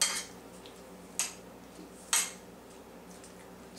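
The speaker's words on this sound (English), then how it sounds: "Mix all these ingredients." A spoon mixes green pepper, onion, tomato, pizza sauce, cheese and olive filling in a bowl, giving three sharp clinks against the dish spaced about a second apart over a quiet background.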